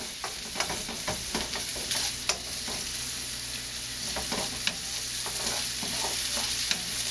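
Ingredients browning in a hot pan for kimchi fried rice, with a continuous crackling sizzle and occasional stirring clacks and scrapes, fairly close and steady, no talk.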